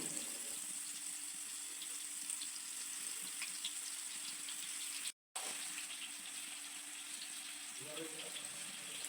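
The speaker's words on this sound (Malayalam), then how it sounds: "എണ്ണ ചൂടായി വരുമ്പോൾ മസാല തേച്ച് വെച്ചിരിക്കുന്ന ചെമ്മീൻ്റെ പകുതി ഭാഗം ഓരോന്നായി എടുത്ത് എണ്ണയിലേക്ക് ഇട്ട് കൊടുക്കാം" Masala-coated prawns sizzle in hot oil in a pan, a steady hiss that holds evenly throughout, broken once by a brief gap.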